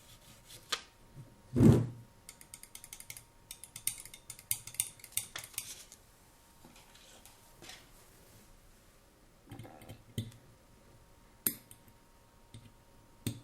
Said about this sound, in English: After tightening the adjustment screws, we counter them with nuts and tighten the counter screws from the top.